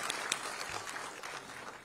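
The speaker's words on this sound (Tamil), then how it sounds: "சுஜி அவர்களுக்கு பலத்த கைத்தட்டல் கொடுக்கலாம்" Applause for women's cricket team captain Suji, a fairly quiet scattering of hands clapping in a room that thins slightly toward the end, with a few sharper individual claps near the start.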